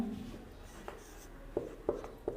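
Urdu letters handwritten on paper, a few soft pen strokes and scratches, close and quiet with no voices.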